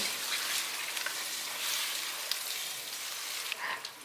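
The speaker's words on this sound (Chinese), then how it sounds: "5克的盐，15克的素蚝油，一些胡椒粉，把调味料炒均匀。" Potatoes stir-fried with salt, vegetarian oyster sauce and pepper sizzle steadily and close by in a pan, with a bright, continuous hiss and occasional light scraping from stirring.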